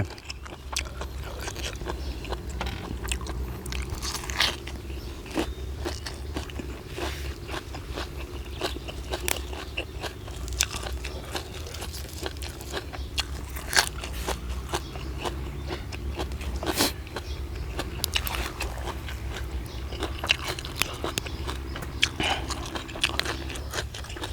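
Crispy apple snails being eaten outdoors in a cool evening setting, with steady close-up biting and crunching, repeated chewing and occasional scraping running throughout at moderate level, no talk.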